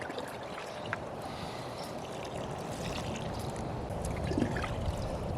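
Water pours and splashes onto freshly transplanted kale and Swiss chard in garden soil, making a steady trickling wash that builds slightly louder toward the end. It is heard outdoors without talk.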